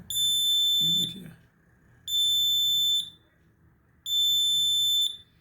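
A shrill electronic buzzer, triggered by an IR sensor module, sounds three times in even, second-long blasts with short gaps between, loud and piercing; a voice speaks briefly during the first.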